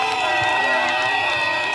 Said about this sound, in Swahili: Makofi kwa gavana wetu.